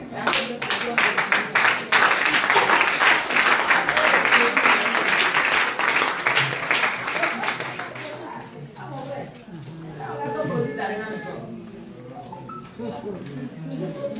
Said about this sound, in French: On va l'acclamer d'abord.